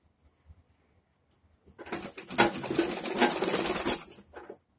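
A sewing machine stitches a samosa-cut churidar pajami toward the back side, running in one steady, close burst for about three seconds after a quiet start.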